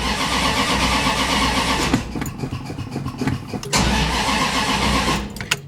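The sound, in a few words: Plymouth Barracuda engine cranking and trying to start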